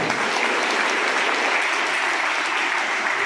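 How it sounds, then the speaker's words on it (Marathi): Steady, dense applause from a crowd at an event for the blind, loud and continuous for a few seconds with no voices over it. "एकदा टाळ्या त्यांच्याकडे वाजवा."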